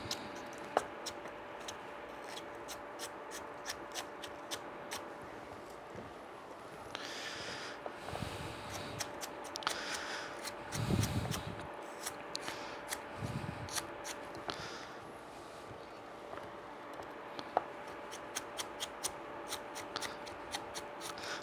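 A knife julienning celery on a cutting board, many rapid, light, rhythmic taps from close by, with brief pauses and some handling noise in between and no talking.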